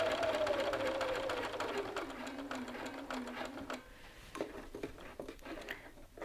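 A sewing machine runs close and steady along a lapel's lower edge, with a whirring motor pitch that falls slowly. It then stops and gives way to a few scattered handling taps.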